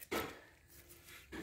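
Knife chopping herbal medicine ingredients for bone and joint remedies on a board, two sharp thuds about a second apart, close and clear with a quiet gap between.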